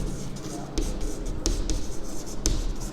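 Chalk or marker writing by hand on a board during a maths lesson, a run of quick scratchy strokes and taps close by, with no voice.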